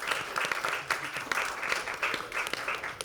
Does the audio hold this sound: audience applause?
yes